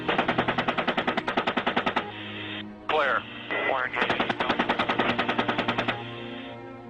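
Helicopter gunship firing its machine gun in rapid, evenly spaced bursts from a distance, with a steady rotor hum underneath and a short break filled by crackly radio chatter.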